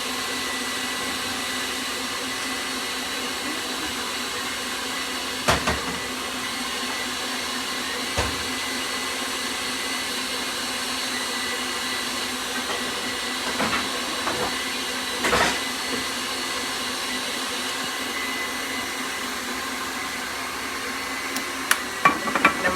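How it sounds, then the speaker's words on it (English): A kitchen mixer's steady electric motor whirs continuously in the background, joined by occasional clinks and knocks, with no voices. "Y'all hear that mixer back there going, right?"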